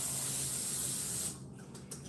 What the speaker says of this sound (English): so I'm just going to give it a light spray